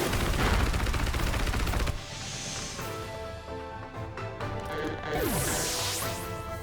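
A Close Combat attack in Pokemon Shield lands as a flurry of rapid smashing hits, loud and busy at first, then easing into chiming game sounds and a closing swoosh.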